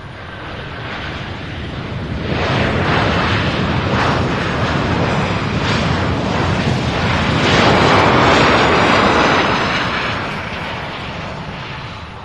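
A large jet lands at Louisville International Airport in a broad, loud roar that swells, peaks and fades over several seconds, heard from a distance with heavy wind rumble on the microphone and no voices.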